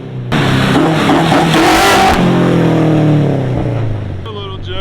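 A K-swapped Toyota AE86 engine, running rich, revs up loudly and close, holding a high roaring pitch for a couple of seconds before dropping back to a rumbling idle.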